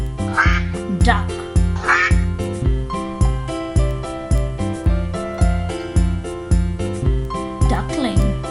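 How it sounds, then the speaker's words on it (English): Rhythmic duck quacks repeating over a bouncy children's tune, loud and close, with steady musical beats underneath and no talking. "Duck."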